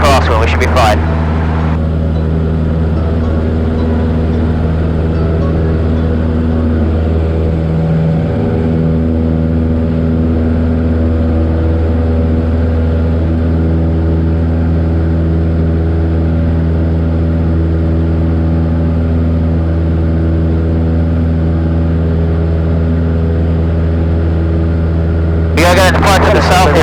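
A small airplane engine drones loud and steady while climbing after takeoff from Plymouth, Massachusetts, an unbroken hum with a subtle shift partway through; brief voice transmissions cut in at the start and end.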